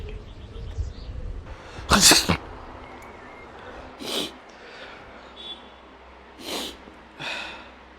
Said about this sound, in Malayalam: എന്താണ് പതിവില്ലാതെ ഈ സമയം ഒരു തുമ്മല്?